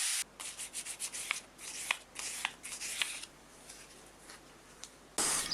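Sandpaper rubbing over layers of zinc phosphate primer on a vintage watchmaker's lathe part, a run of quick, raspy strokes close by in irregular bursts, then a brief pause before a final scrape.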